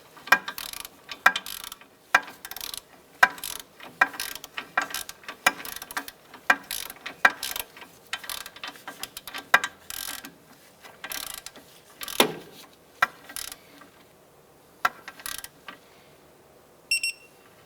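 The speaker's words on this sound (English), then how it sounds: "Torque this down to 41 foot-pounds." A torque wrench is tightening the steering nut on a 2001-2007 Ford Escape during a rack and pinion bellow job, giving steady runs of sharp ratcheting clicks in an irregular rhythm. The clicks are close and moderately loud, with no voices.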